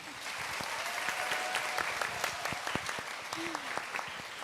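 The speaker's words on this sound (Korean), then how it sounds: "큰 박수 부탁드립니다" Steady applause from a crowd at an in-person school admissions information session fills the whole stretch, dense and continuous with scattered sharper claps, fairly loud throughout.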